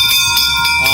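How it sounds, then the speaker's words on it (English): A ship's bell from a retiring ferry rings with a bright, sustained metallic tone, struck several times in quick succession close by, loud and ringing throughout the short moment. "Why don't you ring the bell to take us into the ads"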